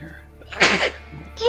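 A single sharp sneeze bursts out amid a tabletop role-playing session, brief and fairly close, with quiet voices around it.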